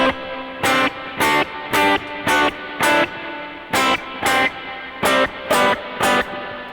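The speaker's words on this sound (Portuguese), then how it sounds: "O delay tá desligado, tá apenas um reverb" Electric guitar played through a Kemper amp with only reverb on and delay off, sounding about a dozen evenly spaced, bright strummed chords, each ringing briefly before the next, played alone without talk.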